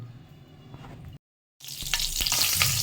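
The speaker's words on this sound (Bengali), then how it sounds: "এই গরম তেলের ওপরে কাঁচা লঙ্কাটা দিয়ে দিলাম" Green chilies hit hot oil in a pan and burst into a loud, bright sizzle after a brief silence, with a faint spatter of frying beforehand.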